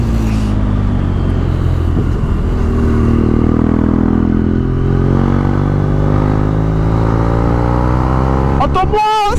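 A motorcycle's engine roars steadily at high revs while chasing a Porsche GT3 RS on a road, loud and close with strong wind noise, and the rider talks over it.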